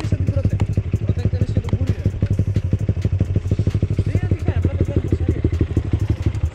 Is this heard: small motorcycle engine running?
yes